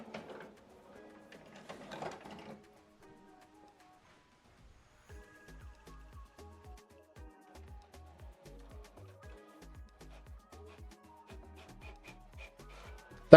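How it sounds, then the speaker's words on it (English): HP Officejet Pro 9135e inkjet printer printing a test page: a brief whirring burst, a pause, then a steady run of rhythmic mechanical clicks and whirs from the print carriage and paper feed, close and alone. "Let's print or skip printing page, printing page."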